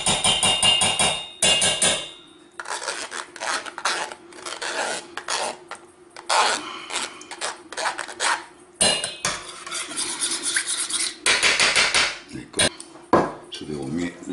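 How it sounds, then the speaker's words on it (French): Jam scraped and pressed through a metal sieve while making an easy fruit tart, heard as repeated rasping scrapes and clinks of utensil on mesh and bowl, close and fairly loud with brief pauses. "dessous, je vais gratter ma confiture"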